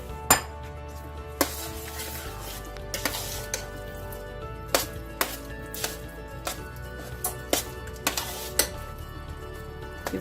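Mac and cheese with browned sausage and sauteed baby portobello mushrooms is stirred in a pot, with a spoon scraping and clinking against the metal in sharp, irregular knocks every second or so over a quiet kitchen background.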